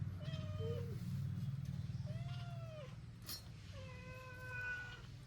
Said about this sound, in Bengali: এই দেখো বিড়াল চলে এসছে বিড়ালে মাছ খাবে